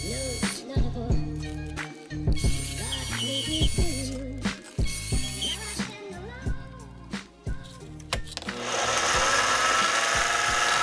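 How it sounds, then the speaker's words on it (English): Metal lathe or machine tool cutting a shoulder on a metal part for a mailbox flag holder, a steady whirring and grinding with tonal whine that stops and restarts several times, ending in a louder broadband cutting hiss. "so I machined a shoulder for it to rest on"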